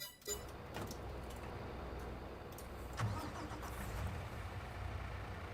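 A truck engine in Farming Simulator 22 cranks and catches, then settles into a steady mid-pitched idle that runs on alone at moderate volume.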